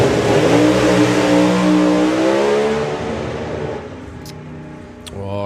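Corvette drag racing car accelerating hard at a drag strip without shifting into second gear, a loud sustained engine note rising steadily then fading away as it pulls off, with faint commentary.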